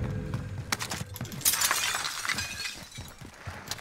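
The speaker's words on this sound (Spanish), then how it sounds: "No rompáis cristales por los zombies." Glass shatters in the video game Call of Duty: Warzone during a Halloween zombie event, a sharp crash followed by a scatter of tinkling shards, with faint game ambience beneath.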